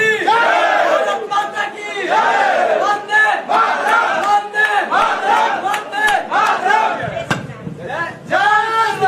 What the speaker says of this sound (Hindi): जोरदार ताली बजाते रहो भैया, ताली नहीं रुकनी चाहिए।